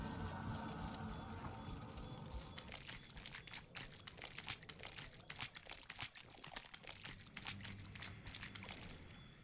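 Continuous rushing water of a waterfall in the video game The Witcher 2, a steady broadband pour with scattered splashy bursts, fairly faint and heard alone.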